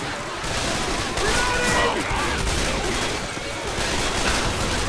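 Gunfire from survivors in the co-op zombie shooter Left 4 Dead 2, played in the Death Woods custom campaign, fills the scene as a loud, dense fusillade of overlapping shots throughout, with voices talking underneath.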